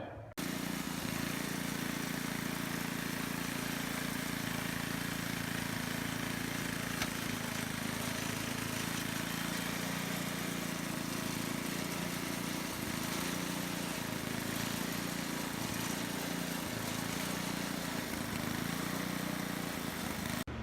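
A repaired snow blower's engine runs steadily and loudly for about twenty seconds, a constant close droning hum with no pauses or voices.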